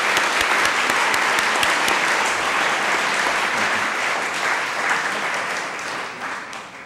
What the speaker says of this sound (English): One more time, let's give her a round of applause.